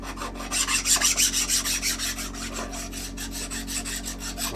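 Steady hand-filing rasps across a shop-made metal setup block, taking burrs off, with quick rhythmic strokes loudest early and then easing into a lighter, even back-and-forth scrape, close and alone.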